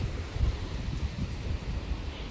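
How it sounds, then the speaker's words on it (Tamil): Strong wind gusting on a rooftop in the Seychelles, a rumbling, buffeting roar with irregular low gusts striking the microphone throughout. "ஆனால் செம்ம காற்று அடிக்குதுப்பா இன்னைக்கு."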